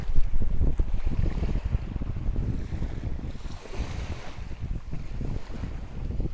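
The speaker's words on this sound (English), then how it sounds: "So what we're looking at is the water coming in and going out at the same time." Tidal water flowing in and out along a shore, a steady low rush and wash of water mixed with heavy wind buffeting the microphone, with no voices.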